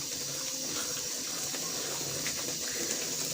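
Chickpea cooking water is poured into a chickpea masala as it cooks, giving a continuous soft splashing gush that stays steady and fairly faint. There is no talk.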